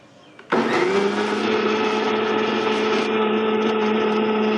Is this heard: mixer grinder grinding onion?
yes